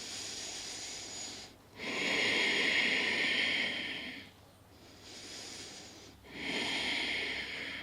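Slow, deep breaths drawn in and pushed out during a vinyasa yoga flow, two long airy hissing exhales separated by short pauses, close and clear with no talking.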